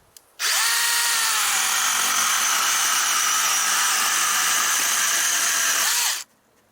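Handheld battery chainsaw cutting tree branches: a close, loud, steady electric whir starts abruptly, holds evenly for about six seconds, then stops cleanly, with no talking.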